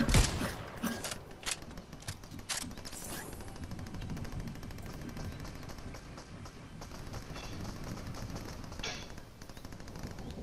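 Gunfire in a Fortnite match, bursts of shots crackling near the start over a dense, busy game soundscape with footsteps and scattered impacts continuing throughout.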